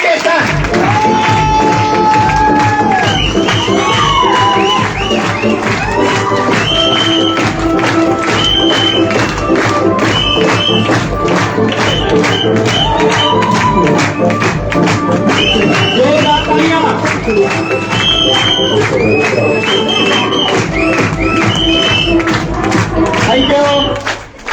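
A large audience at an indoor program in India claps steadily and loudly, with scattered cheers and whoops rising over the dense, continuous applause that fills the whole stretch.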